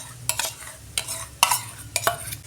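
A spoon mixes whisked sour yogurt and ground spices, including coriander and turmeric, into soybean chunks, giving soft, wet squelching stirs in a loose repeating rhythm, close and quiet, with no talking.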